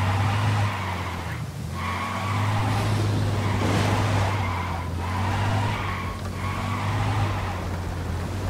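A car in the video game Ghost Recon Wildlands is driven hard, its steady engine drone running throughout while tires skid and squeal in several bursts, loud and close.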